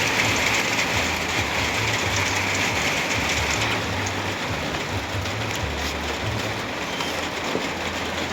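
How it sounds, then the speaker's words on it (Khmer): Steady rain falls in a dense, even hiss that fills the whole stretch without pause, with a low rumbling hum running underneath and no talking. "បន្តិចមេឃកំពុងតែភ្លៀងអញ្ចឹង"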